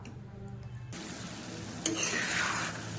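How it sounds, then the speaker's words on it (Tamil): Bread halwa is stirred in a pan over the heat, giving a steady, close, hissing sizzle with soft scraping strokes that grows fuller partway through and continues without talk. "நல்லா கிளறி விட்டுட்டே இருக்கணும்."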